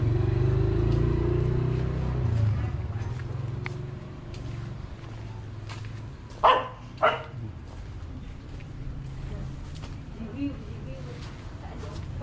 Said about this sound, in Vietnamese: Này con chó.